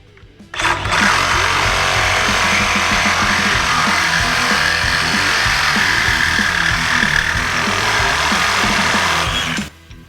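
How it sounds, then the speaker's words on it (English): A powerful reciprocating saw cuts through thick metal conduit, a loud, steady buzzing drone that runs without pause for about nine seconds before stopping abruptly. "So this is really thick conduit, you can see there. This saw is really powerful."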